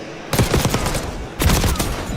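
Two rapid bursts of automatic gunfire in a Call of Duty esports match at a CDL Major, dense crackling rounds loud and close, separated by a short gap.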